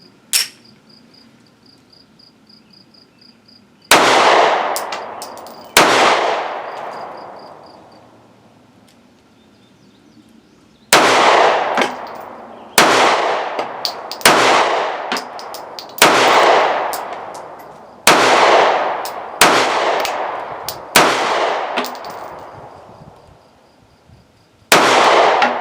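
Sharp, loud pistol shots from a Smith & Wesson CSX subcompact, about ten reports fired alone in uneven bursts with short gaps, each crack ringing out and decaying, a faint high whine lingering between them.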